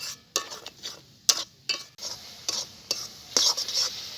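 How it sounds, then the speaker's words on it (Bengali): Thick jaggery filling for patisapta stirred briskly in a pan, a close run of quick scraping strokes with soft sizzling in between, no voices. "বন্ধুরা, এরকম ঘন ঘন নেড়ে চেড়ে পুরটা বানাতে হবে"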